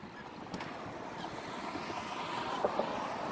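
Wind blowing outdoors on a sunny day while stealth camping, a steady low rumbling rush with gusty microphone buffeting, fairly faint and continuous with no talking.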